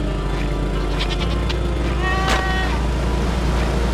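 A goat in the video game Summer Catchers lets out a few bleats over steady game music and ambience, with one brighter, louder cry near the middle.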